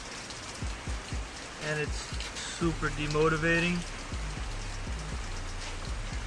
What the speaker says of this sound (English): it's still raining down here